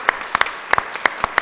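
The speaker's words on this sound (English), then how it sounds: "Let's give him a round of applause" A few scattered claps from a small audience at a county board of supervisors candidate forum, about eight sharp separate hand claps over a second and a half, close by with no continuous crowd roar.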